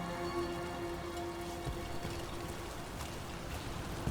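Steady rain falling in the video game Dragon Age: The Veilguard, a dense even hiss of drops pattering on surfaces throughout, close and moderately loud with no voices.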